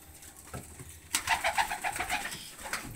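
Racing pigeons coo in a loft, a run of soft, rhythmic throaty calls rising after a quieter start and continuing steadily at close range, with light background rustling.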